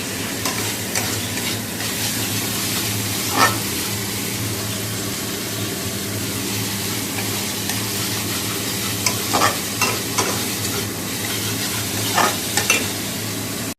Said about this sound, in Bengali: মাছের ঝালটা করে নিচ্ছি